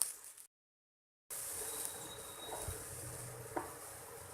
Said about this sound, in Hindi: प्याज को हम ब्राउन होने तक फ्राई करेंगे।